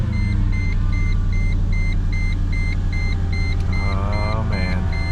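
A Mercedes-AMG car being driven after a brake bleed, with a steady, loud engine drone inside the cabin and a repeating electronic warning chime pulsing over it.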